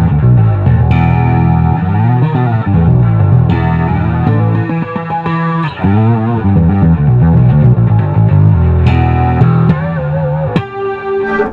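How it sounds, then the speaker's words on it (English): Bass guitar played through an EBS Billy Sheehan Drive distortion into an EBS chorus, loud and continuous with gritty, shimmering sustained notes and a swirling modulated edge. "if I pop that on, you'll hear now just the distortion is chorusing."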